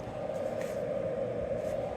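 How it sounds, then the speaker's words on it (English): A Ten Tec Omni 7 amateur radio receiver tuned off-band with the RF gain turned partway up gives a steady, even hiss of white noise with a faint hum underneath. "you can hear some white noise there"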